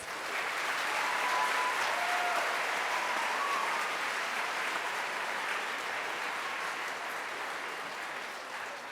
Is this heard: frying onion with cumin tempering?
no